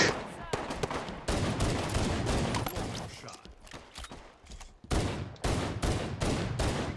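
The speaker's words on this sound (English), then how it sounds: "People are using the assault rifles." Assault rifle fire in a Halo online match on the Hang 'Em High map: rapid automatic bursts, loud and close, stopping and starting across the stretch, with game noise and someone talking alongside.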